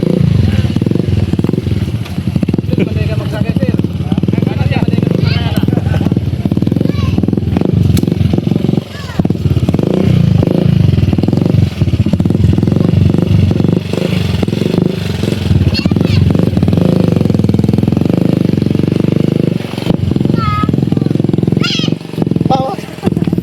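A motorcycle engine drones steadily throughout, close by, with rattling and clatter over it and people talking loudly above the noise.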